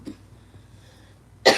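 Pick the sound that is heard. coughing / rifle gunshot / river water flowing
coughing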